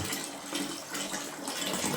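Water gushes strongly from an opened tap, a close, fairly quiet hissing splash with uneven surges over two seconds and no voices.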